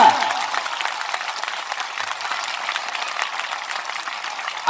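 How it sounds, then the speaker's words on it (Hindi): Sustained applause rolls through a crowd at a political rally, fairly loud and even, with the clapping tapering slightly before a brief swell at the end. "जोरदार ताली बजा के स्वागत करिए अपना।"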